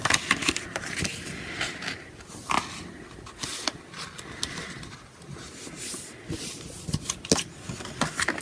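Gift-wrap paper being folded and creased by hand while making a quick gift bag, with close, irregular crinkles and sharp rustling snaps spread across the stretch and no talking.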